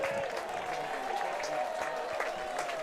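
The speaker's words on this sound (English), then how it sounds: "Everybody clapping over there in the Unicorns dugout" Steady clapping from players in a baseball dugout during a championship game, a dense continuous patter heard from a distance, with a faint murmur running underneath.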